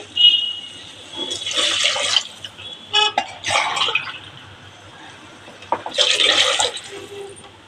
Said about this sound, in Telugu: ఇప్పుడు ఒక గ్లాస్కు 2 గ్లాస్ వాటర్ పోసుకోండి.